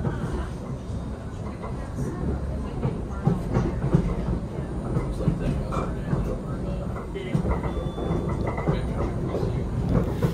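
The Gornergrat mountain train from Zermatt runs with a steady low rumble and soft rattling from inside the carriage, while a French announcement voice speaks over it.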